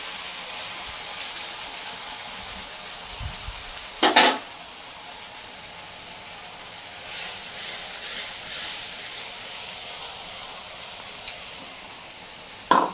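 Ground ginger, onion, garlic and green chilli sizzle in hot oil in a pan, a loud steady hiss with occasional bursts of louder spitting and a few stirring clinks, no talking.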